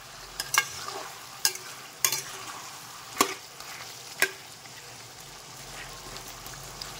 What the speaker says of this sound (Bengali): এখন আবার আমি একটু নেড়ে নেবো